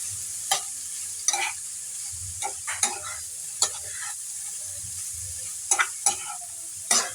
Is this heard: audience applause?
no